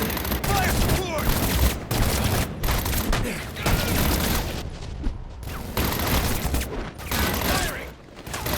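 Sustained volleys of police gunfire from Batman Arkham Origins, loud, dense bursts of rapid shots broken by several short pauses, close and harsh throughout.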